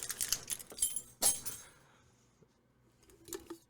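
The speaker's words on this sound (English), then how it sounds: "I make a lot of noise with my keys" A bunch of keys jangles close by in quick metallic bursts, bright clinks fading to quiet handling, then a final short jingle.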